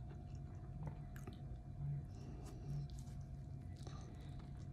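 Soft, close chewing of a bite of chili dog with a hot link, moist squishy bites repeating in a slow rhythm over a low hum.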